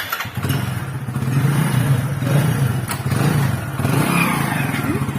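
Motorbike engine running steadily and revving as the rider pulls away on a shopping trip, a loud continuous low throb close by with no talk over it.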